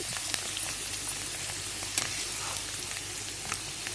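Channa dal frying in hot oil makes a soft, even sizzle dotted with faint crackles and pops, heard on its own at low volume.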